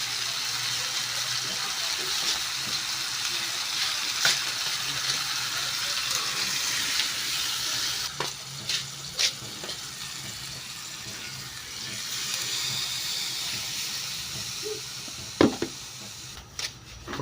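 Water is poured into a hot, sizzling pan of chicken adobo being cooked, giving a steady close hiss and rushing gush for several seconds, with a few sharp clinks and knocks near the end.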